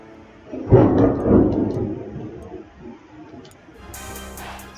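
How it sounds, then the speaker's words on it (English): Thunder rumbling during a rainstorm, with a loud close roll that swells and fades over a couple of seconds, then a low steady rain hiss underneath with a brief sharper crackle near the end, no voices. "Damn, that's a storm. That is a storm."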